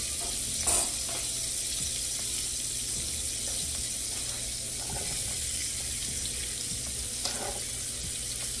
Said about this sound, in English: So I added some butter and I'm going to add in some onion.